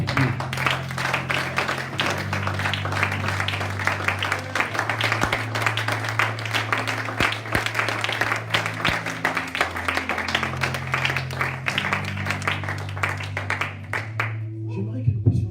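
Church congregation applauding for God during a prophetic service, sustained dense clapping from many hands throughout, under loud continuous talk and music-like tones, fading near the end.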